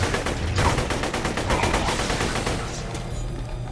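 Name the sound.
assault rifle gunfire in the video game Borderlands 2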